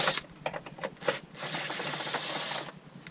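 A hand ratchet clicks through several short bursts, then a longer steady run, turning a socket on a wobble extension against engine bolts in a Mazda RX-8 engine bay; close, loud, with no talk.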